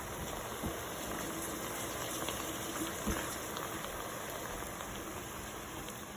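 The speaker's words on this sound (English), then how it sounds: "Let me just rinse my hands off." Water runs steadily from a kitchen tap as hands are rinsed during cooking of a chuck roast, a continuous hissing splash at moderate level with occasional small knocks and no talking.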